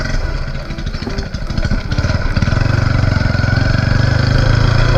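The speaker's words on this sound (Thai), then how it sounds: "ดูดิ ท่อดังโคตรว่ะ คันเร่งก็ตึงนะ โอ้ดูดิท่อโคตรดัง" A motorcycle fitted with a loud aftermarket James exhaust revs close by, its rough engine note building into a steady, heavy drone that grows louder and fuller over the last half.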